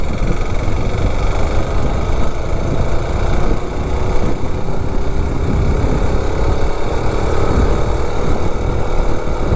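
A 3.5 Tecumseh engine on an Azusa mini bike, run on diesel, drones steadily and loudly throughout, with a rough, dense idle-like rumble and a faint rising tone as it pulls from a standstill.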